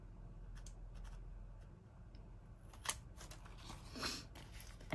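Scissors snip the corners off a damp, curling 4x6 paper card, a few sharp close cuts standing out over a soft, low room background.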